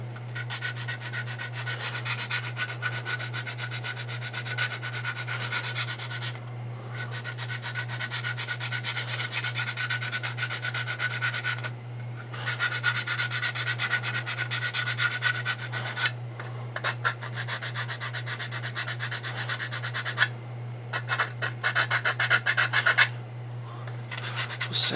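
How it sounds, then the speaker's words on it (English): Sandpaper glued to a wooden block rubs steadily back and forth over wood in long continuous strokes, close and fairly loud, with short pauses between passes and a constant low hum underneath. "And what I do with those wooden blocks is I stick sandpaper to them."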